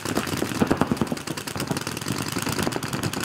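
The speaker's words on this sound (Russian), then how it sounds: "Звуки выстрелов на площадке не стихают ни на секунду." Dense, rapid popping of paintball marker shots at a paintball tournament field, overlapping in a continuous crackling barrage that never pauses.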